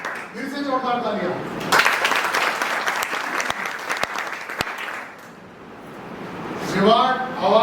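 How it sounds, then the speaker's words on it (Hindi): Speech gives way to a burst of audience applause that swells, then thins out before a voice resumes talking. "फिर से जोरदार तालियां"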